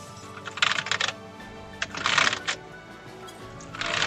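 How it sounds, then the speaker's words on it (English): A computer keyboard wet with spilled tea is cleaned in three bursts of rapid, close clattering key presses, separated by quieter pauses over a low background hum. "There's the sound of me trying to clean my keyboard."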